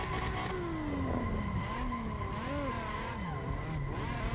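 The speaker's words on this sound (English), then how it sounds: "let's jump right in and get some drifting done" A Nissan 350Z drifting, its engine droning and changing pitch as the car slides, with tyres skidding and whining in long sweeps. Sound is steady and moderately loud, without talk.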